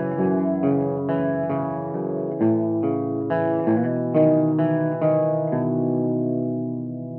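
An electric guitar played through EVH gear picks out a riff slowly, note by note, with ringing chorus-tinged arpeggiated tones fading out at the end; no talk.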